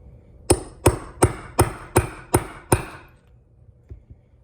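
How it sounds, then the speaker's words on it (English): Seven sharp metallic hammer strikes on a setting tool installing hardware on a hoodie, at a steady, even pace, each ringing briefly before the next, then quiet with a couple of faint taps. "And you take your hammer."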